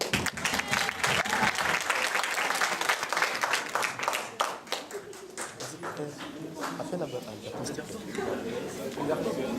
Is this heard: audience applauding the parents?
yes